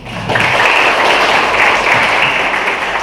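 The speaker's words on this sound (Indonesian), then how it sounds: "tepuk tangan untuk" Audience applause at a university seminar, a dense steady wash of clapping from a crowd that swells in quickly and holds fairly loud throughout.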